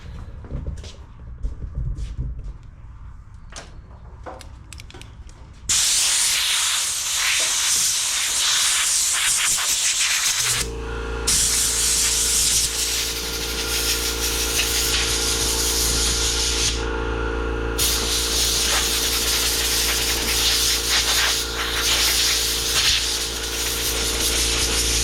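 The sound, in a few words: air blower running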